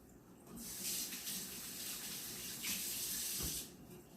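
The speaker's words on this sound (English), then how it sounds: "Let me go and wash my hands, get some of this stuff off my gloves." Tap water runs steadily into a sink while gloved hands are rinsed under the stream during rib preparation, a close, soft gushing with brief splashy surges.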